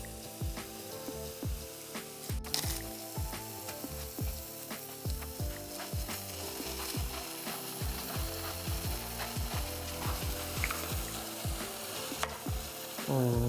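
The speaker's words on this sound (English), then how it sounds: "Give everything enough space in the pan so that it browns up really nicely." Steak searing in a pan for fajita rice, a steady loud crackling sizzle running throughout with dense rapid pops and clicks, close up and alone with no talking.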